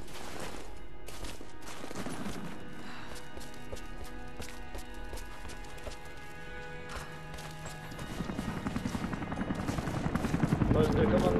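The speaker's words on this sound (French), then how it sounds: "dernier hélicoptère en partance" Helicopter rotor chopping in the action video game Rise of the Tomb Raider, a steady low thump under game effects and music, growing louder and more rapid toward the end.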